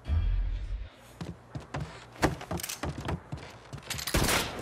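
Gunfire in the crime action video game Mafia 3: a fast, irregular string of sharp shots and cracks, some in quick bursts, with a heavy low thump at the start and a louder volley near the end.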